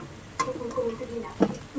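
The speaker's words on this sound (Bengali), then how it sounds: "এবার আলুগুলো আমি এক সাইড করে তুলে নিচ্ছি" Potatoes frying in oil in a wok, with a soft sizzle under metal scraping and stirring as they are pushed to one side; a couple of sharp clinks stand out, and a voice faintly murmurs beneath.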